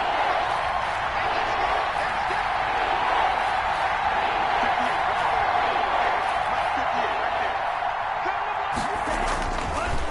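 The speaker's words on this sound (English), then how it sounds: "the crowd getting into it as we come up on a big 3rd down" A stadium crowd in Madden 21 football roars steadily ahead of a big third down, a broad continuous wash of cheering that holds at even loudness for the whole stretch, with a few faint thumps near the end.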